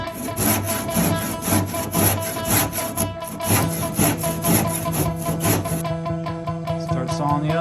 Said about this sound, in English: And I might saw the boat in half.